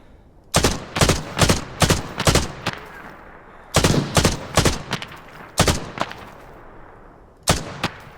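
Rifle fire in the shooter game Arena Breakout Infinite, loud sharp shots in quick bursts of several rounds each, separated by short pauses, with a brief echo tail after each burst and no talk.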